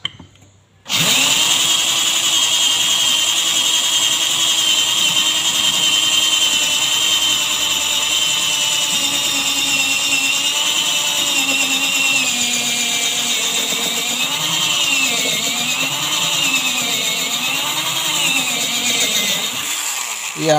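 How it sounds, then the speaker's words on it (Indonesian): A high, whining drill grinds steadily through hard iron plate after a sudden start, its pitch wavering slightly under load, loud and close throughout. "sekarang kita akan uji coba menggunakan mata bor yang tadi"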